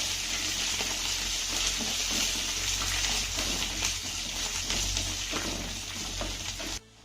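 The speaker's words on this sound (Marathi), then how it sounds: "हे सर्व साहित्य आपल्याला एक ते दोन मिनिटं चांगलं परतून घ्यायचं आहे" Peanuts, garlic and curry leaves roasting in oil in a small tadka pan, a dense, steady sizzling hiss with faint crackles, close and continuous, cutting off abruptly at the end.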